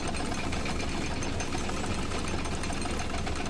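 A bucket destroyer machine runs in The Stanley Parable, giving a steady, dense mechanical rumble and whir that stays loud and even for the whole stretch with no talking.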